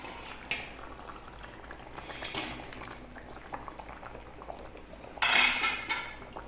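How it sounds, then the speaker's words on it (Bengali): Fried fish pieces go into a simmering ridge gourd and potato curry, bringing soft bubbling under a couple of sharper splashing, sizzling bursts and faint clinks of pan and utensil. "এই ভেজে রাখা মাছগুলো দিয়ে দিলাম।"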